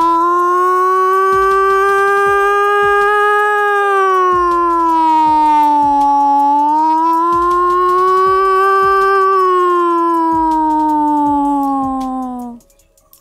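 A boy imitates a passenger launch horn with his voice, holding one long, loud, steady tonal blast that wavers slightly in pitch for about twelve seconds before cutting off, with faint taps underneath.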